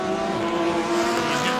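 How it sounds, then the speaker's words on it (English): PSSA race cars accelerate hard at the green flag start at Road Atlanta, their engines forming a loud, steady, sustained roar that fills the whole clip. "Rev starting to pick up as we come down full speed under the bridge. Everybody already heavy into the throttle."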